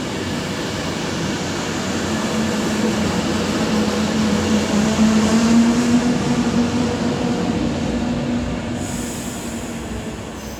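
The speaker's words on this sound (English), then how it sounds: "as 220-032 is also departing with his service to Manchester" Class 220 diesel train departing Coventry station on the West Coast Main Line, a steady loud rumble with a rising engine tone and faint wheel squeal, no talk.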